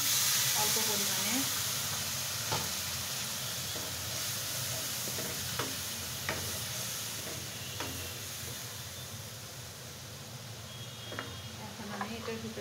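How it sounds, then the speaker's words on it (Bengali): Water splashed into a pan of frying onions, spices and salt for a tilapia fish curry sets off a steady, close hiss and sizzle with occasional stirring clicks, continuing throughout. "একটু ভাজা হয়ে গেছে, আমি এখন একটু পানি দিয়ে দিচ্ছি অল্প পরিমাণে।"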